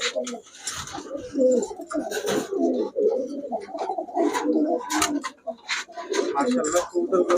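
A female Pakistani pigeon from a breeding pair coos repeatedly in a steady, throaty rhythm, close and clear, over the background noise of a pigeon market.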